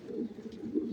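A racing pigeon gives a soft, throaty coo close by, a brief rolling murmur repeated in quick pulses over a second.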